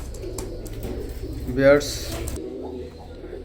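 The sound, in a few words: pigeons cooing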